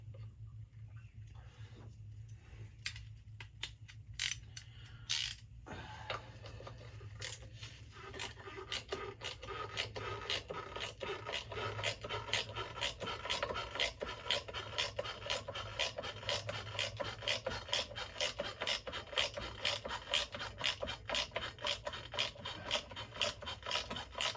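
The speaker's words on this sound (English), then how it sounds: "I use a ratchet just because I don't want to tear stuff up." A ratchet loosens a 13 mm bolt on the belt of a 2021 Can-Am Renegade 1000 XMR ATV, giving a close, steady run of rapid clicks that grows denser and more even after the first few seconds, with no talking.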